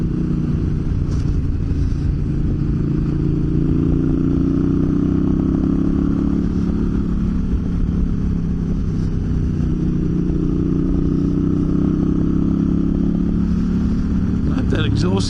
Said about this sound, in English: I hope that exhaust isn't coming loose again.